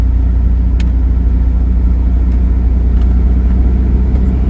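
An old, run-down car's engine idles after starting, a loud, steady low rumble close by with faint mechanical ticks over it and no talk.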